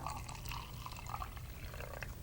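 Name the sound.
water poured into a tube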